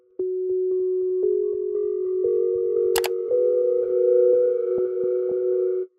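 Lo-fi piano melody with ping pong delay and reverb, steady repeated notes with echoing tails and a soft rising line, clear and close with no talking.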